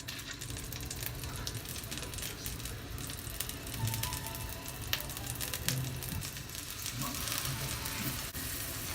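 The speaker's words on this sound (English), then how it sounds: "So now I'm going to put my salmon in. Now I'm going to put the flesh down first." Salmon fillets sear flesh side down in a hot pan, giving a steady, close, even sizzle that runs throughout with no talking.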